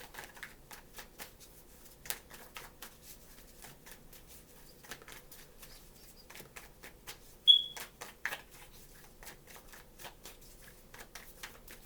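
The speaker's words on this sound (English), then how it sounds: "Two more shuffles, please." Tarot cards being shuffled in quick riffles and soft flicks, quiet and close, with a single sharp electronic chirp partway through.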